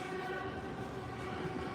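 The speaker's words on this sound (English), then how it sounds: "You get a train going by real close" A Caltrain commuter train passes close by on a street, giving a loud sustained rumble with a steady tonal horn-like hum layered over it throughout.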